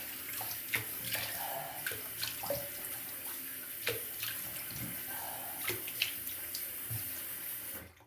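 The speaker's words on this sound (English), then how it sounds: "Let me just rinse up with some clean, fresh water." Tap water runs steadily into a sink, splashing and gurgling close by as something is rinsed under the stream.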